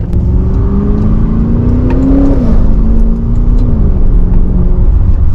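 A steady, loud engine drone from inside a moving Maserati Levante Trofeo, a 580-horsepower V8 SUV, its pitch rising and then dropping as it downshifts.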